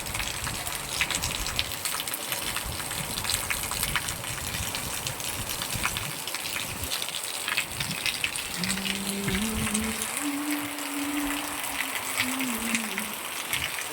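Steady rain pours down around a balcony, a dense continuous wash with a brief tonal whine mid-way over the downpour.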